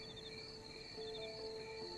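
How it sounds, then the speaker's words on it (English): Crickets chirping in faint, steady high trills, several overlapping pulsed tones running continuously at low level with no talking. "There's crickets! Listen!"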